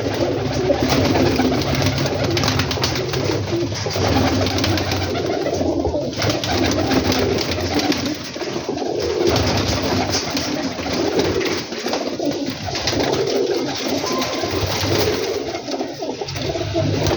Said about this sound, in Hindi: सब बर्ड्स अच्छे बर्ड्स हैं, जगह ना होने की वजह से दे रहे हैं टैडी पिजन सिर्फ